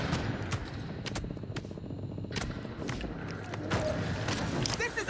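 Shots ring out in the video game The Division, with several sharp bursts and a rapid rattling run of rounds spread through a busy battle mix, fairly close, with voices and scuffling movement around them.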